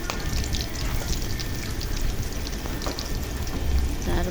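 Whole onions and garlic sizzle in hot oil with garam masala, a steady, even crackle and hiss of frying that stays moderately quiet and continuous throughout.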